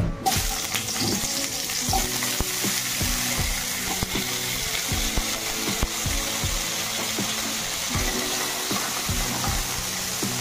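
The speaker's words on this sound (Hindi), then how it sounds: "ये तेल गरम हेलानी प्रथम हम कांकड़ भाजी देबा" Crab pieces frying in hot oil in a village-style kitchen, a close, loud, steady sizzle and crackle with repeated stirring knocks and scrapes of a utensil, no talking.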